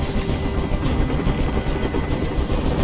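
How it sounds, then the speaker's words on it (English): A helicopter hovers in a hostage standoff scene from the video game Detroit: Become Human, its rotor drone loud and continuous with a dense, buzzing chop throughout. "Tell that helicopter to get out of here."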